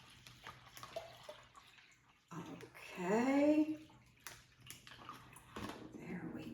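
Water poured into a plastic bag, a gurgling, rising splash lasting about two seconds at close range, with talking before and after it.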